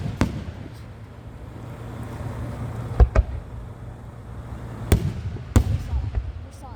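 Independence Day fireworks go off with a handful of sharp, separate bangs spread across the clip, some paired close together. They ring out over a steady low rumble, and people talk faintly in the background.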